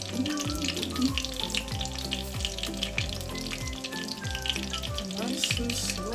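Pork schnitzel frying in olive oil in a pan gives a steady, close sizzle and crackle throughout, with faint clinks and utensil sounds in the background.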